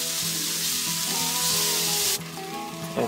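Tomatoes cook down in a hot pan for a vegan lentil curry, giving a loud, continuous close-up sizzle that drops suddenly near the end before flaring briefly again.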